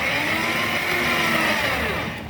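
Steady high-pitched whine of a RUX ride-on toy motorcycle's electric motor spinning its wheel, running continuously at close range and easing off slightly at the end.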